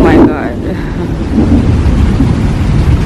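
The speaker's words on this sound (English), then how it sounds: "it's raining" Heavy rain pouring outdoors with a low rolling rumble of thunder, a steady loud wash of noise and wind buffeting the microphone from start to finish.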